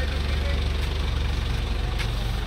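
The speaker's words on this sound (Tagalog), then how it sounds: "Ngayon iangat natin yung upuan para makita nyo po yung andar ng ating makina" A Hyundai H-100 diesel engine idles with a steady low throb and an even mechanical rumble that holds through the whole stretch at close range.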